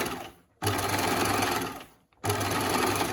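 A sewing machine stitches a centimetre seam allowance on a scrubs neck finish, running in two steady bursts with a short pause between them, close and loud with no talking.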